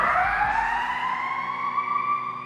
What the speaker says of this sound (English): Fire engine, fire engine.